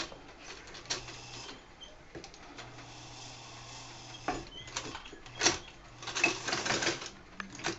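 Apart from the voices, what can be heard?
flatbed sewing machine stitching lining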